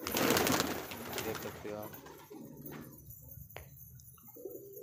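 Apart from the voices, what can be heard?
pigeons cooing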